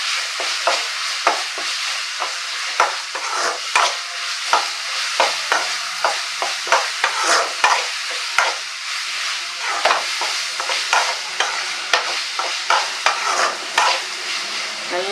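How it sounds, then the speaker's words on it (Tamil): Ground ginger-garlic paste sautés in oil for a goat trotter curry, a bright steady sizzle broken by rhythmic, close spatula stirring and scraping throughout, no voices. "இஞ்சி பூண்டு எல்லாம் அரைச்சி வச்சிருக்கு இதில் சேர்த்துக்கலாம் இதுவும் பச்சை வாசனை போகிற அளவுக்கு நல்லா வதங்கணும்"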